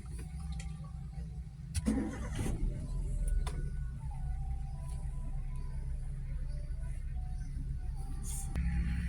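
A manual car's engine cranks over with the starter and catches, then settles into a low steady idle rumble close by in a quiet cabin.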